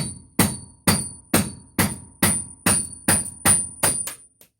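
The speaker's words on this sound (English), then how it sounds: "Just a regular hammer, and it's a beat up hammer." A hammer strikes metal nine times in a steady, evenly spaced rhythm, each tap sharp and ringing briefly before the next.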